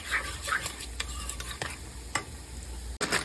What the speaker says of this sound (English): Stir that well.